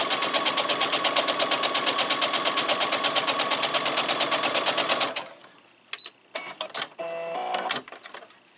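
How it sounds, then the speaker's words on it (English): Sewing machine stitching quilt fabric, a loud close mechanical whir with a fast even stitch rhythm running steadily for about five seconds, then stopping, followed by a few short clicks and one brief renewed burst of stitching. "Alright, I'm just going to sew this."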